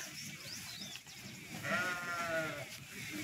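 A sheep bleats from a flock walking along a road, a wavering cry rising out of a rustling outdoor background and easing off after about a second.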